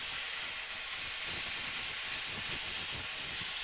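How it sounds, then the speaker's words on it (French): Beef sizzles as it sears in a pan, a steady bright hiss filling the whole moment at low volume with faint crackles underneath. "On saisit bien la viande."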